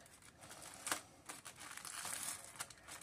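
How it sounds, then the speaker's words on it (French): Washi tape being peeled off paper packaging, producing quiet close crinkles and short tearing rips in irregular bursts, with no talking. "Je voulais garder le papier. Et c'est pas facile de enlever le washi."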